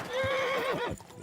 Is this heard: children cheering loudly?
no